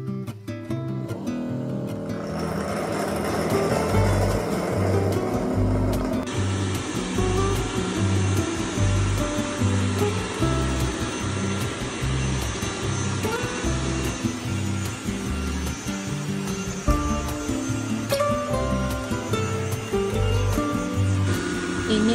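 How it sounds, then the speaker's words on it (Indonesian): A Dreame L10 Prime Plus robot vacuum runs a combined vacuum-and-mop cleaning pass, giving a loud, steady motor whir and airflow hiss with a low pulsing drone throughout and no talking. "Ini mode vakum langsung pel ya teman-teman."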